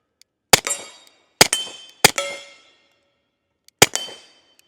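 Four sharp, loud pistol shots from a stainless Sig 1911 X at an outdoor range, fired singly with gaps between them, each crack followed by a short ringing decay, and no talking.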